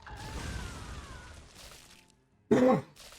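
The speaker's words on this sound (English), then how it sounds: "Sorry, I'm coughing like a motherfucker tonight." A short, sharp cough bursts out near the end after a quieter stretch of faint noise and a whistling tone.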